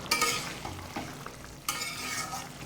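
Food for lentil, pea and pennywort fritters is stirred in a pan, giving a low continuous sizzle with intermittent scraping strokes and a louder stir burst near the end.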